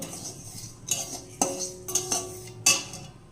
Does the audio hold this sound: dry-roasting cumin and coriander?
yes